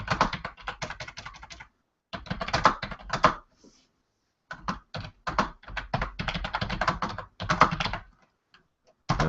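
Someone types a comment on a computer keyboard: rapid bursts of close, crisp key clicks separated by short silent pauses.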